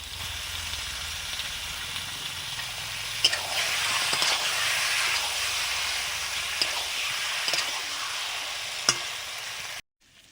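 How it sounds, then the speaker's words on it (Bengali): Meat dropped into sautéed spices in a new kadai in an outdoor kitchen, producing a loud, continuous hissing sizzle with scattered pops and stirring clicks before a sudden cutoff. "মশলা কষানো হয়ে গেছে এবং মাংসটা দিয়ে দিচ্ছি"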